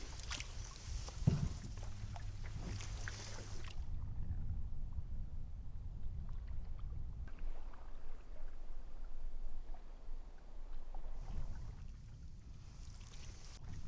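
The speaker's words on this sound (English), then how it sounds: "Now we're paddling through a lily pad field" A canoe glides through a field of lily pads on a Temagami lake during a fall river trip, with soft water swishes and paddle strokes close by over steady low ambient rumble, quieting midway.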